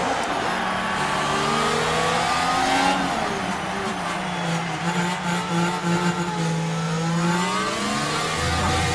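Formula 1 cars accelerating off the grid at the Monaco race start in F1 Manager 2024, a dense, continuous wail of rising engine pitch from several cars sweeping upward together, loud and sustained with a brief dip and renewed climb midway.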